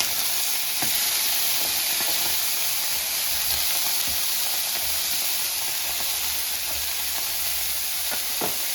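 Italian sausages pan-frying with a loud, continuous hissing sizzle, a few soft knocks as the links are turned in the pan.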